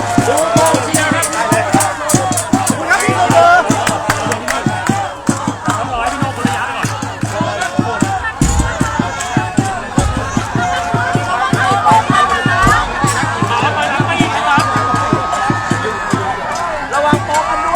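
A crowd cheers and shouts at a riverside event as a man jumps into the Mekong, with loud, dense babble and whoops throughout, mixed with close voices and scattered thumps.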